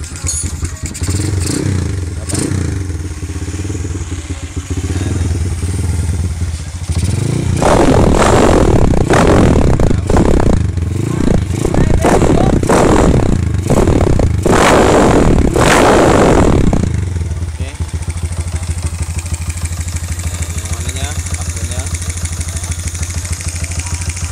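A Honda Wave 125 motorcycle engine with a blown engine revs hard in a series of loud, rising bursts, settling back to a steady idle between and after, with some clatter.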